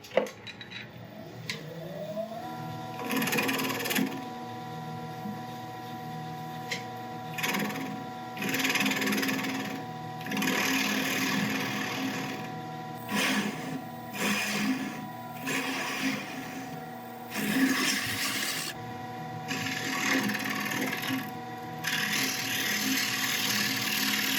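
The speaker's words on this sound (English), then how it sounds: "I'll be starting off with a 3/8 inch bowl gouge, and the first order of business is to get rid of this little nipple at the end" Wood lathe spinning an elm bowl while a 3/8 inch bowl gouge removes the leftover nub, with a steady motor hum and repeated bursts of scraping cut noise that come and go.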